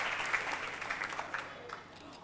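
Audience applause at a school cooking competition final in Ghana, a faint, steady patter of clapping from a crowd heard at a distance.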